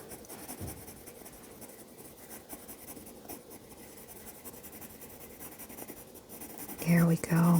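A colored pencil scratches and rubs steadily on paper while coloring a pizza drawing, up close and soft, and a voice starts speaking near the end.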